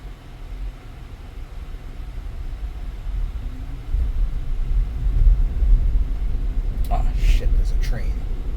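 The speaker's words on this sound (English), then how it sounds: "It's a long train." A long train rolls past while heard from inside a car driving around Plant City: a steady low rumble that swells slightly partway through, with a few faint high beeps near the end.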